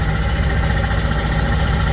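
A 2005 International 7.3 T444E diesel engine idles steadily on a cold 40-degree day in Wisconsin, a continuous low, even rumble with no other sounds.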